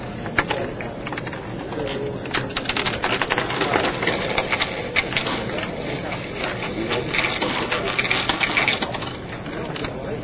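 A homemade Rube Goldberg contraption runs to pump out hand sanitizer, with scattered clicks, ratcheting taps and rattles over a steady busy background with faint bird-like chirps.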